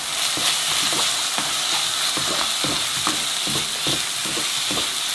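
Fish cakes stir-fry in a pan with a spoonful of water and curry powder, giving a loud, continuous sizzle broken by regular scraping stirs of the spatula, with no talk.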